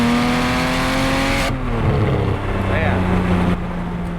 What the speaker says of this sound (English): It does rev pretty quick up the red line here.